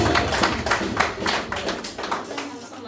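A church congregation applauds during a Christmas celebration service, with steady, dense clapping rising and falling in bursts over a continuous crowd murmur and voices.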